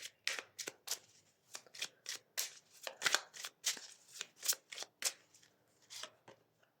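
A deck of oracle cards is shuffled close to the microphone, a quick irregular run of crisp riffling slaps and flicks, quiet overall with no talk.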